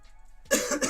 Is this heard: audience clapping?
no